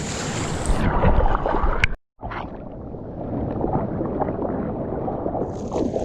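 Kayak paddled through a current-swept gap beside a shark-frequented island, with a steady, fairly loud wash of water and wind that cuts out briefly before resuming.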